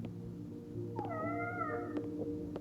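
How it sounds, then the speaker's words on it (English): A cat meows in the video game Life is Strange: Double Exposure, one drawn-out rising and falling call over a low indoor hum, fairly close and clear, with no speech. "I should check on the cat"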